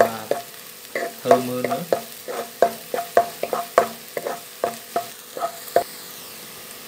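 Ginger being stir-fried in a pan for salted fish fried rice: rhythmic clatter of a spatula stirring, roughly a dozen close, loud strokes over a steady sizzle, with no talking.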